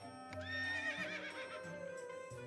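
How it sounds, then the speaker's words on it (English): A horse neighs inside the video game Labyrinth of Galleria, a loud, shrill whinny with a wavering pitch that rises and falls over a steady game music bed, with no talking. "There must be some damn loud horse if you can hear that in a room in a manor"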